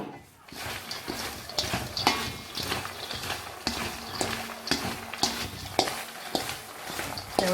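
Popcorn being stirred and tossed with tomato powder in a bowl, giving a rustling, scraping mix of irregular knocks and shuffles at close range, with faint voices now and then.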